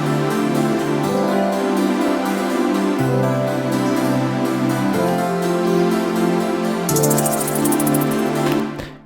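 Synth pad preset playing a melody with no effects, steady sustained chords shifting in pitch every few seconds, loud and alone, with a bright glittering layer entering near the end before it cuts off.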